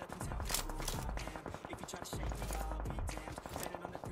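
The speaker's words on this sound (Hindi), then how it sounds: "मतलब फायरिंग के साउंड आए हैं और ऊपर भी आए हैं।" Rapid gunfire bursts from a battle royale video game, with dense repeated shots and thumps running steadily through the clip, fairly loud and layered over other game sounds.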